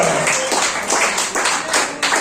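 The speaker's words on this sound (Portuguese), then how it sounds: "Pode bater palmas para Jesus, igreja." A church congregation claps together in worship, a dense rhythmic wave of applause in regular bursts that fills the room, with no talk over it.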